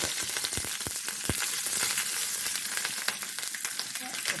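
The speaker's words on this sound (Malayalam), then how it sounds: "ആ എണ്ണയ്ക്കകത്തോട്ട് കടുക് മുളകൊക്കെ പൊട്ടിച്ചെടുക്കും." Mustard seeds and dried chillies crackle in hot coconut oil during traditional Kerala home cooking: a steady sizzle with sharp, scattered pops and crackles throughout, close and fairly loud.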